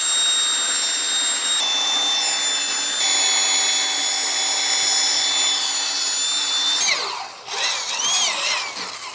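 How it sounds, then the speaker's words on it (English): A right angle drill with a 9/16 bit whines steadily at high pitch for several seconds, boring through a steel beam, then the motor dips and revs back up near the end. "We got the 9/16 custom modified bit in our right angle drill."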